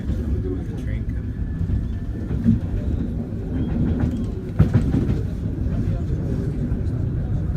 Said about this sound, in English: Last time I checked, there was a train coming.